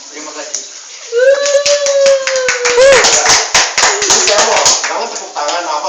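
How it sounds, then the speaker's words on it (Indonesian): Audience clapping at a parody presidential debate, a burst of sharp claps layered under a talking, shouting voice, loud and close, running for several seconds. "Jangan tepuk tangan"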